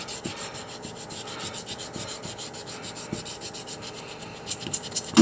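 A fossil sand dollar is rubbed on worn 320 grit wet/dry sandpaper, giving a continuous raspy scraping with uneven back-and-forth strokes, close and alone.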